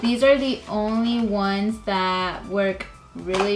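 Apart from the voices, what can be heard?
No everyday noise stands out behind the speech.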